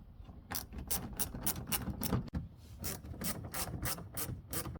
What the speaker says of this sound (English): Now let's bolt down the fender liner with the 2